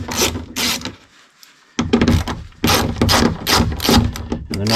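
A ratchet works loose the four 10mm bolts holding a speaker in a Toyota Tacoma, close and loud, with bursts of rapid clicking separated by a brief pause.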